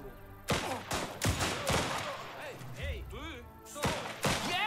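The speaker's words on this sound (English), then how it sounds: "Oh, crap. It's grenades." Grenade blasts in the strategy game Last Train Home: several sharp broadband bursts near the start, middle and end, mixed with clipped soldier voice lines and talk throughout.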